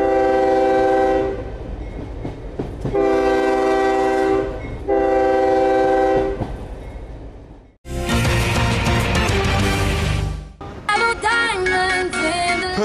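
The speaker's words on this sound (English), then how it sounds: "you've got to expect railway noise." A train on a railway line sounds its horn in long, loud sustained blasts, then rumbles and clatters past close by with squealing wheels and rhythmic clacking.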